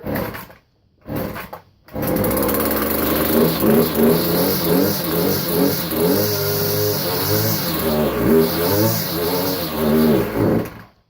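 A Poulan Pro PP335 weed trimmer's small two-stroke engine sputters briefly, then catches and revs loud and buzzy in repeated surging bursts before cutting out and dying at the end.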